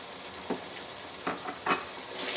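Tomato frying in a tempering of oil and chillies in a pan, giving a steady hiss of sizzling broken by a few soft stirring scrapes, close and moderately loud.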